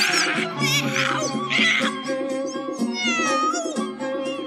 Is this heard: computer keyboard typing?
no